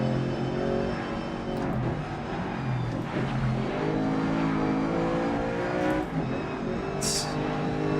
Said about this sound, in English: Just hitting the rev limiter in 6th gear at the end of that straight